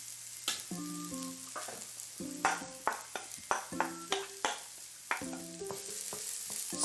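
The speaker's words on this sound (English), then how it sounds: "Stir, stir, stir." Onion and garlic fry in sesame oil with a steady sizzle while a utensil stirs them in quick rhythmic clicks and scrapes, close up, over soft melodic background music.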